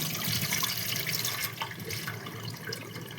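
Tap water running over lentils being washed in a kitchen sink, a steady splashing gush with light sloshes and drips, close and alone, with no talk.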